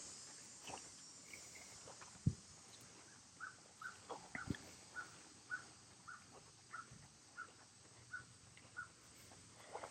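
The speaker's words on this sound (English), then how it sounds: "There's some crows in the background." Crows caw in a repeated series at a distance, faint against steady insect buzz and outdoor ambience on a trail at Aztalan State Park, with occasional footsteps or thumps nearby.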